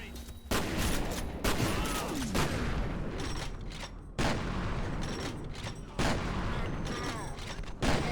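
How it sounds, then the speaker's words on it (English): A shotgun in the game F.E.A.R. fires several loud, heavy blasts spaced a second or two apart, each a sharp boom with a ringing tail and mechanical clatter between shots. "this weapon I'm using is the shotgun"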